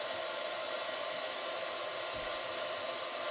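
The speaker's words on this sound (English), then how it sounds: "heat gun, and see if we can get a hold of it and peel it off without hurting the paint." Steady broadband blowing hiss of a heat gun warming a decal on a car's painted body panel, continuous and fairly quiet, with no voices over it.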